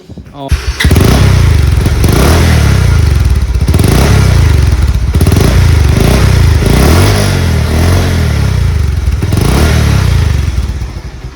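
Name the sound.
motorcycle engine running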